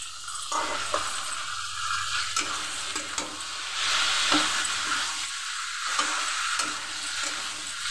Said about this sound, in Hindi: इसके बाद छोले को डाल देंगे